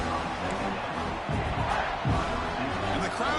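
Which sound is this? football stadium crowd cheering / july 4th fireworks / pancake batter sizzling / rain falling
football stadium crowd cheering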